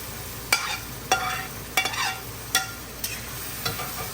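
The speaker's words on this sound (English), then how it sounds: "I'm adding some green chilies for spice, and I will also add the onions now." Onions and green chilies cooking in hot oil for eggplant curry, a low sizzle broken by about six sharp spoon scrapes against the pan at roughly even intervals, close and without speech.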